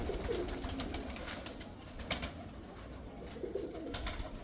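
Soft, low cooing of a Teddy rain pigeon (a fancy domestic pigeon breed) repeating over a quiet background, with a few faint clicks and rustles nearby.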